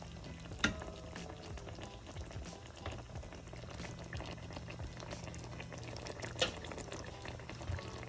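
Jamaican-style fish steaming in a covered pot on the stove, a steady low bubbling and hiss running throughout at a moderate, close level, with a couple of brief lid or utensil clinks.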